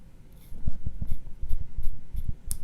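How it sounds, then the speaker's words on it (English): Crown of an Islander ISL-15 pilot watch being wound, giving a quick series of soft, close ticking clicks in an irregular rhythm over about two seconds. "Okay, winding the crown, you just click it in"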